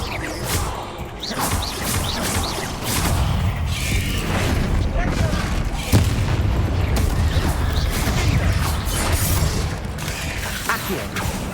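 Bombarda spell blasts in the video game Hogwarts Legacy, heavy booming impacts and crashing debris amid mechanical rumble, repeated in quick succession with a voice shouting spell names over the action.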